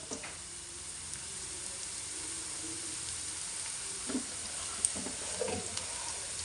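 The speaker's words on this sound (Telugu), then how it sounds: "ఈ ఉల్లిపాయ, పచ్చిమిర్చి వేగుతున్నాయిగా" Onion and green chilli frying in a pan for a carrot fry, heard as a faint, even sizzle that stays constant throughout with a few small soft knocks and no speech.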